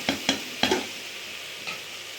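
Beef frying in a pan for korma, heard as a few sharp, close stirring scrapes in the first half followed by a fainter one, over a quiet background sizzle.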